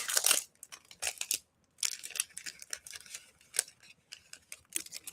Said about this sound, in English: I'm going to open up this set of die cut stickers right quick.